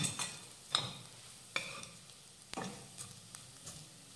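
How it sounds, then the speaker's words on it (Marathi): Turmeric and onion-garlic masala sauté in a pan for potato bhaji, a faint close sizzle punctuated by a few distinct spoon scrapes and taps, with no talking. "तर आता मिनिटभरासाठी हे परतून घेऊयात।"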